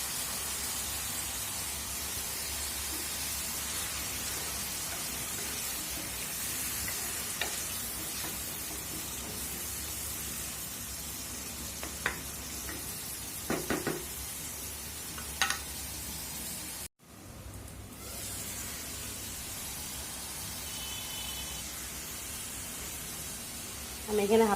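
Onion paste sizzles steadily in a pan at home, with soft stirring scrapes and a few sharp clinks of a utensil, a brief dropout near the end, then continued frying.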